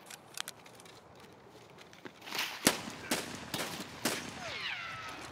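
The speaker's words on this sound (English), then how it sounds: "Three shots with Piranha," An MP-153 shotgun loaded with Piranha shells fires in Escape From Tarkov, producing a few loud, spaced booms over a quiet outdoor game ambience, followed by a faint whining tone.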